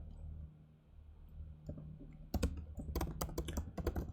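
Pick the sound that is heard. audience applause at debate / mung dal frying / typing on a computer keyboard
typing on a computer keyboard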